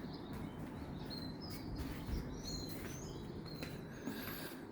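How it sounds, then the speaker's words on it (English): Birds sing outside a hotel in Bali, several faint high chirps and whistles scattered over a steady low ambient hum of the surroundings. "listen to the birds. They're all in tune."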